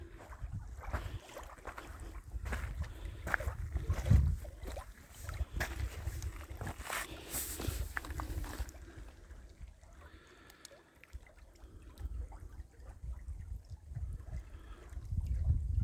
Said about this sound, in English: Trickling water's the only sound.